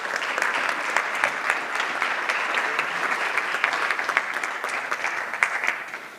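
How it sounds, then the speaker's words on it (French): Sustained applause from an audience at a corporate convention round table, a close, busy patter of many hands clapping without pause and fading off near the end. "On peut les applaudir, s'il vous plaît?"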